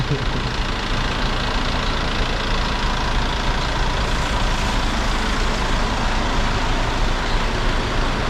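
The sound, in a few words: small minibus idling at bus stop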